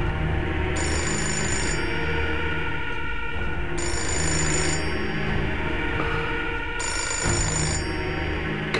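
A telephone rings in the game Fahrenheit, a bright repeating bell sounding in three evenly spaced bursts over a loud, busy game background with no talk.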